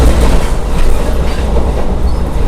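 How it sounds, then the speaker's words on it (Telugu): The Vivek Express, India's longest train running Kanyakumari to Chandigarh, passes very close and loud, a dense continuous rumble of wheels and rattling wagons with a clickety-clack beat throughout. "ఇది వచ్చేసి మన India's longest train Vivek express train."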